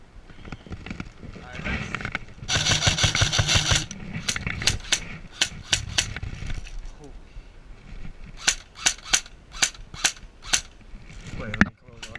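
An airsoft gun fires a rapid string of sharp snapping shots, then single crisp pops spaced about half a second apart, close and loud, with people talking over the opening seconds.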